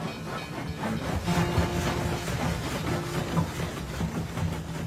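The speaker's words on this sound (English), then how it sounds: "the Bull Moose Special thundered into the strike zone" The steel-plated Bull Moose Special train rumbles past in a coal-mining strike zone in Appalachia, a loud continuous roar with hiss and rhythmic rail clatter, no voices.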